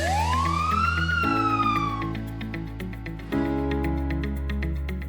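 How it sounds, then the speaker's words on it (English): A face recognition security door lock sounds its electronic alarm siren. A loud rising wail gives way to harsh pulsing tones that shift in pitch, heard close and alone. "If someone suspicious is spotted, click the siren and emergency message is sent automatically."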